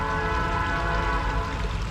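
A train sounds steadily throughout at fairly close range, a sustained horn-like tone with stacked harmonics over a low rumble, loud and continuous with no voices.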